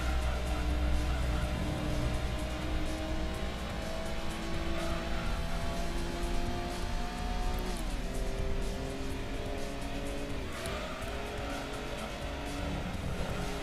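Racing car engines from Gran Turismo 2 in a Compact Car World Cup race, a continuous loud drone that rises and falls with gear changes, with a few tire squeals and layered engine tones over roughly fourteen seconds.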